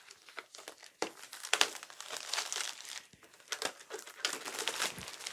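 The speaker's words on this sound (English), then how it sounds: "And we'll get this shrink wrap off of here safely without cutting anything." Shrink wrap plastic crinkling and crumpling as it is pulled off a Siser Juliet cutting machine during unboxing, a close, continuous run of crackly bursts with brief pauses.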